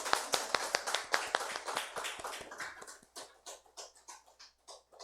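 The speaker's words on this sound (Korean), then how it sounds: "환호의 박수로 맞이하라고요" A small audience at a Catholic priest's lecture claps in a sparse, uneven rhythm, with distinct individual claps near the start that slow and soften into scattered patters.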